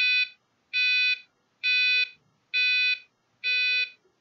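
Five loud, steady electronic beeps in an even on-off rhythm, each about half a second long, from a passive buzzer driven by a PIC16F877A playing an emergency alarm tune, close by with short silences between.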